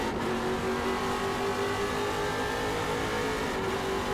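Ford Mustang Trans Am race cars at Portland International Raceway, engines droning loudly at high revs with a steady tone, heard from trackside and continuous throughout.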